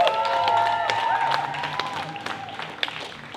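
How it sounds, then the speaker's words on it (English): A large crowd applauds and cheers at an outdoor rally in Keene, New Hampshire, a steady wash of clapping that slowly thins over a few seconds, with a voice faintly mixed in. "it is great to see such a big crowd out here"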